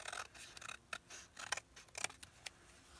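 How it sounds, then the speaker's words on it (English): Scissors snip down through a paper envelope in a crafting session, with a quick series of close, crisp cuts and faint papery rustle between them, quiet and without talk. "cut down our envelope"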